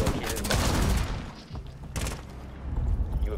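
Gunfire in a video game, loud bursts of rapid shots and booming impacts in two dense clusters with a brief lull between.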